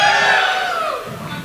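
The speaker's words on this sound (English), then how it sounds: "Okay, and a cheer for Fuzzy Peach." Audience at a live comedy show cheering for Fuzzy Peach candy, a short burst of crowd shouts and whoops that swells at once and then slowly fades, loud and alone.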